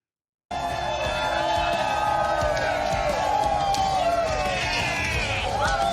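A big crowd cheers and whoops continuously at a Georgia campaign rally, a loud, dense roar of voices that starts abruptly and holds steady, with a shouting voice rising over the din.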